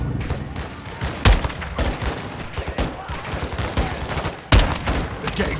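Dense gunfire from a Call of Duty Modern Warfare 2 battle, with rapid overlapping shots and machine-gun bursts, two heavy blasts standing out near the start and end, loud and continuous.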